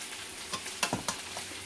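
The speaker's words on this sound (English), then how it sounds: "my chicken is done. It's still sizzling because it's, you know, the cast iron" Chicken sizzles steadily in a hot cast iron pan, with a few soft clinks and scrapes of stirring over the crackle.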